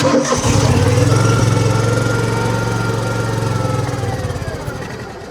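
A 1970s skid steer loader engine cranks with the choke on and catches, settling into a loud, close, rough idle that slowly fades in strength, with no talking.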